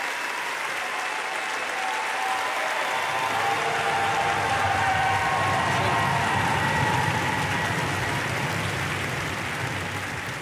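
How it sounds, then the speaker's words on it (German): A television studio audience applauds as the Olympic ski racer is introduced, a long, sustained roar of clapping that swells and stays loud and even for about ten seconds. "Wie man am Applaus gehört hat, ist er gar nicht so unbeliebt, der Mayer."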